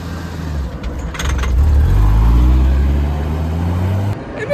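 A Porsche with a manual gearbox on a racetrack, its engine rising in a steady low rev as the car pulls away, loud and close, with a short clink of keys early on.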